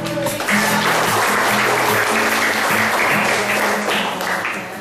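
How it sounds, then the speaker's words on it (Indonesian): Sustained applause from a classroom for a group of pupils fills the space, loud and continuous, with a faint tonal hum or music underneath. "Kelompoknya. Ya, beri tepuk tangan."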